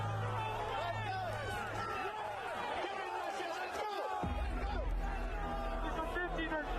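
A large crowd gathers outside the Capitol, a steady dense hubbub of many voices with scattered shouts and cheers, continuous and moderately loud, with a deep rumble joining near the end.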